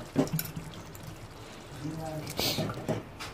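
Cut medium-sized eggplant pieces tumble into a pot of half-cooked potatoes for aloo baingan, with soft splashing, wet clatter and sizzle in short bursts, close and quiet, as a person speaks over it.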